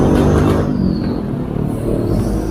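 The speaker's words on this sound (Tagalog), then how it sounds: "Sobrang traffic." Heavy road traffic heard from a bicycle in the midday rush, a continuous loud rumble of car and bus engines with revving passing close by, no voices.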